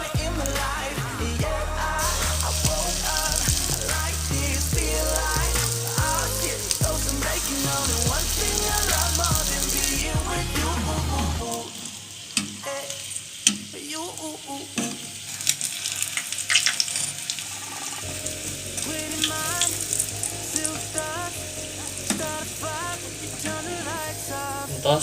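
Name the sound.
frying dough in oil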